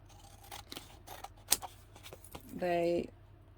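Scissors cutting paper while making an envelope folder craft, a few short close snips scattered among quiet handling sounds, ending in a brief tonal squeak.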